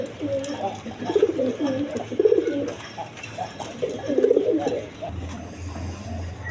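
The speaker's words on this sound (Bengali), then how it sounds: "এখানে এক পেয়ার কবুতর আছে, দেখেন লাহোরি।" A pair of Lahori pigeons, a red male and a black female brooding two eggs, coo in repeated low throaty phrases, fairly close, with a low hum underneath.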